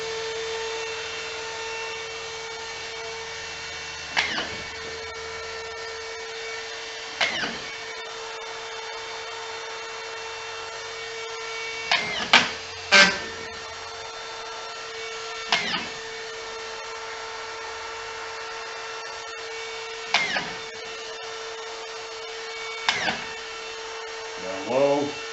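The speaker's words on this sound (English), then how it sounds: "So let me try the Makita here and lock the trigger." A Makita cordless drywall screwgun runs with its trigger locked, giving a steady, close motor whine throughout, broken every few seconds by short sharp clattering bursts, with a few clustered together near the middle.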